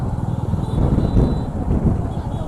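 Road traffic heard while riding a Royal Enfield Meteor 350 motorcycle through Ahmedabad by day: a steady low engine rumble with gusty wind buffeting the microphone and pulsing throughout, and no clear voices.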